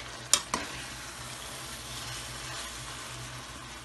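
Onions frying in a pan for white karahi chicken, with a steady soft sizzle throughout and a couple of sharp clicks or stirring knocks near the start.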